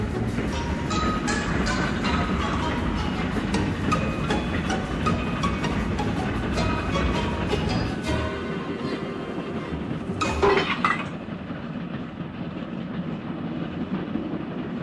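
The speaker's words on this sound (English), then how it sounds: "His train rocketed past and was gone." A steam engine train rushes past on the rails, a loud dense rumble with clickety-clack from the wagons that cuts off sharply partway through, leaving a quieter rolling tail and a brief hiss near the end.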